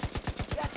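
A mounted gun fires in The Division 2: one fast, even burst of about nine sharp, punchy shots in under a second, loud and close.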